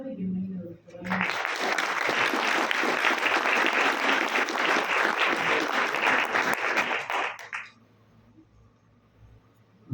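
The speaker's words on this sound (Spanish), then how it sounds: "demos un aplauso y bienvenido" An audience at a Mexican university book presentation at FES-Acatlán breaks into loud, sustained applause to welcome a speaker, a dense clapping wash lasting several seconds before fading out.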